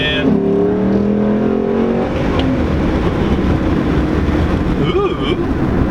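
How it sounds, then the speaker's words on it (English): A 2007 Ford Mustang Shelby GT accelerates hard in second gear, its loud engine roaring steadily close by for the whole stretch, with a brief rising whine near the start and a chirp near the end. "Do a second gear pull."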